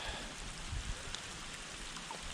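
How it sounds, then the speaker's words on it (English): Steady rain falls outdoors during a pike lure-fishing session, a dense, even hiss of drops hitting surfaces with a few louder patters, continuous throughout with no talk. "Yeah, it's raining."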